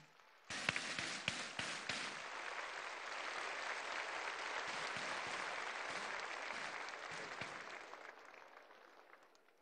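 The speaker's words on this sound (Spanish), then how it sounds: "Un fuerte aplauso para ellas y para ellos." At an event for a senior citizens' pension program, an audience breaks into applause that starts abruptly, holds as a dense even clatter of clapping, then tapers off.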